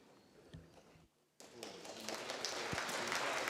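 Applause breaking out among a church synod assembly after a consensus decision, starting abruptly after a quiet pause and growing into steady, fairly distant clapping from a large room.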